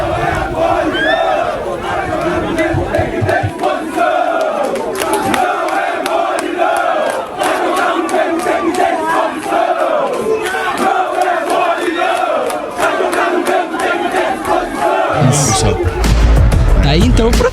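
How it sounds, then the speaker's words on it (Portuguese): Flamengo supporters chant loudly in protest as the players arrive, a dense crowd singing continuously with shouts and claps throughout. "Vamos ouvir aí o protesto do Flamengo ontem."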